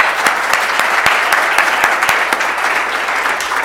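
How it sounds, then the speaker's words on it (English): Audience applause for the speakers at a Cradle to Career meeting, a steady, dense wash of many hands clapping throughout, moderately loud with a few sharper claps standing out. "can I get one final round of applause for all of our speakers?"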